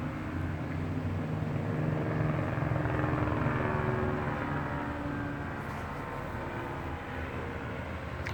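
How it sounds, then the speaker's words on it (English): A helicopter drones steadily with a low rhythmic rotor thump, fairly loud and sustained, easing slightly toward the end. "Helicopter."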